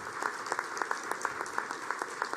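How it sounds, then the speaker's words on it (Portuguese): Audience at a development event gives a faint, somewhat distant round of applause, with individual claps popping out from a steady spread of clapping. "Então, uma salva de palmas ao Malan."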